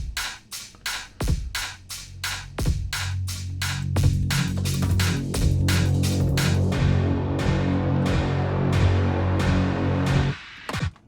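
A newly designed synthesizer patch plays alongside drums, sharp evenly spaced percussive hits over a sustained, throbbing low synth drone that builds and holds, close and fairly loud, ending with a couple of final hits.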